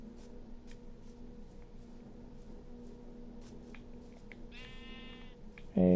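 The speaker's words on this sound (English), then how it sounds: "Hey, sheep." A Minecraft sheep gives a short bleat late on, with soft shuffling and a low steady background hum before it; faint and brief, with no talk.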